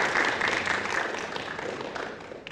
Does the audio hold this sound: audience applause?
yes